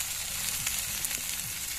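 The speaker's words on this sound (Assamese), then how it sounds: "পিঁয়াজ চিয়াজ ভাজি লওঁ" Onions fry in a pan over heat at an outdoor picnic cooking spot, making a continuous, even, close sizzle with faint crackles and no talking.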